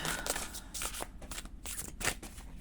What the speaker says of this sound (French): on va essayer de tirer une carte